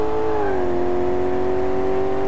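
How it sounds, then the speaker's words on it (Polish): A Porsche 356 Speedster engine in the Car Mechanic Simulator 2018 game, a clear, tonal motor note that rises briefly as it accelerates, then settles into a steady hum, close and fairly loud, with no talking. "Samochodzik jest trochę wyrywny. Spróbuję go tutaj okiełznać."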